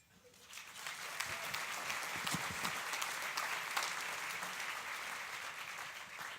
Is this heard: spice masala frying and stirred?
no